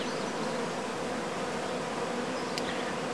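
Honey bees swarm around a used hive super during a swarm capture, producing a dense, continuous buzzing drone that stays steady and close throughout, with no talk.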